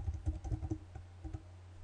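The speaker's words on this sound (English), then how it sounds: "I'm just going to type in Imran." Keys tapped on a computer keyboard while an email address is entered, a quick run of soft clicks over about a second, then a pause and a few more taps, close and fairly quiet.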